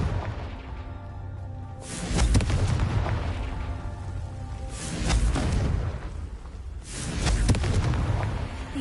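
Three loud Confringo spell explosions in Hogwarts Legacy, each a sudden booming blast with a whooshing burst that rumbles and fades over a second or two, spaced a few seconds apart.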